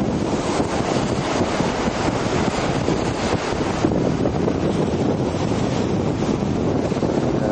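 Ocean waves washing around the end of a groin on an eroding beach, a constant loud roar of surf and wash mixed with heavy wind buffeting the microphone.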